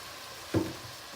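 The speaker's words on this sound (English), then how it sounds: "what I'm going to begin to do is start adding my milk to the pan" Milk hits a hot pan of sausage gravy with a brief loud sizzle and splash that quickly fades into a soft simmer.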